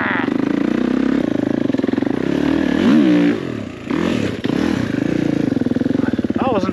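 A motocross bike's engine revs hard and climbs in pitch while the rider tackles enduro terrain, loud and close, with dips, clatter and scraping as the throttle is blipped, and a voice speaks briefly over it.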